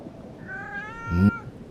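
A cat in the Foolish Mortals video game gives a single drawn-out, rising meow over a low, steady background hum, with no speech.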